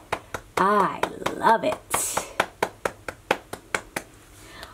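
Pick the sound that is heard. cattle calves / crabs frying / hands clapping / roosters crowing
hands clapping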